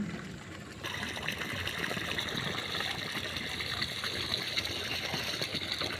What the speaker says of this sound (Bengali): সকাল সকাল বোতলে জল ভরে নিই